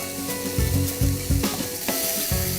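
Finely chopped mushrooms and French beans stir-frying in a hot pan, a steady loud sizzle under repeated clattering, scraping tosses of the spatula in an uneven rhythm, close up and without speech.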